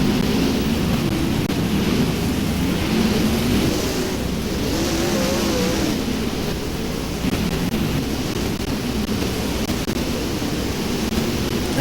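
Race cars circle an oval speedway at reduced pace under a caution flag during a Main Event, a steady, continuous engine drone heard at a distance, with no talk over it.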